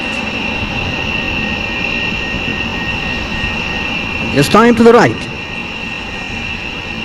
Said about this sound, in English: The LUH is now performing one more stall turn in front of us.